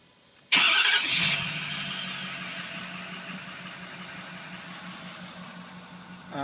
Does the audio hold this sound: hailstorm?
no